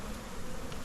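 Honey bees buzzing steadily during a hive cutout removal, a dense continuous drone from many insects close by, with no talk.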